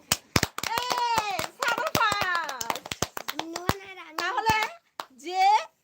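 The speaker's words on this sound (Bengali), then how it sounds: "এই সবাই হাততালি দাও" Scattered sharp handclaps ring out close by while several children's voices chatter and call over them almost continuously.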